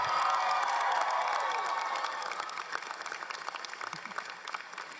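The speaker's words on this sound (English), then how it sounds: "You can cheer." Convocation crowd cheering and applauding for graduates, a loud sustained wash of claps and shouts that gradually thins and fades over about five seconds.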